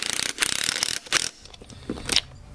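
An impact wrench tightens the front wheel bolts on a GoPed scooter, firing in several short rattling bursts separated by brief pauses, close and loud, with no talking.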